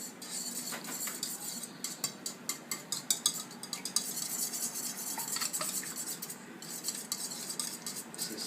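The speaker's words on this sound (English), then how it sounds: "I'm going to come over here and get whisk. I'm going to stir these all together." Eggs whisked together in a bowl, rapid rhythmic metal clicks and taps against the bowl's side, close and fairly quiet, with a brief pause midway before the whisking resumes.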